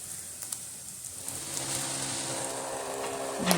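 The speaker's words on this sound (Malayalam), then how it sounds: "അപ്പോൾ ഈ എണ്ണയിൽ കിടന്ന് നന്നായിട്ടൊന്ന് മൂക്കട്ടെ." Grated coconut frying in oil for a bitter gourd thoran, a steady soft sizzle with faint crackles that thickens and grows louder toward the end, with no talk.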